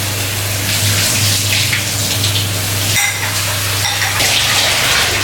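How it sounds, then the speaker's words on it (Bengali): Rice being washed in a pot in a home kitchen, with steady running and splashing water from a tap throughout, loud and close, briefly dipping around the middle before resuming. "তো আমি চালগুলো ধুয়ে নিচ্ছি।"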